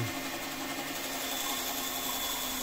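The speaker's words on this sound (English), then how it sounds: "So we turn on the bandsaw" A bandsaw running with a dust extractor attached gives a steady, continuous machine hum and whir, loud and unbroken from start to finish, with no voices.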